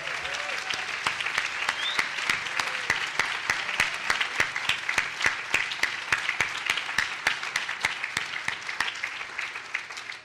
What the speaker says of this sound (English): give them a really big round of applause